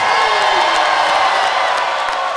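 A live audience at a Seattle Mariners event cheers and whoops in a dense, steady roar that stays loud and unbroken throughout.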